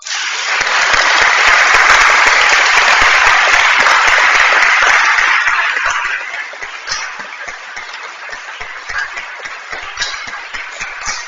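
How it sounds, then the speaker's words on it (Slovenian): Congregation applause during a family Holy Mass, a loud dense burst of clapping that tapers off after several seconds into scattered, sparser claps. "Pa mogoče za spodbudo res še en aplavz."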